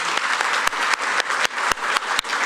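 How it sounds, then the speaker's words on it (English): Audience round of applause at a mayor's service awards ceremony, a continuous wash of clapping with a few sharp, louder claps standing out near the listener. "give yourselves a round of applause here"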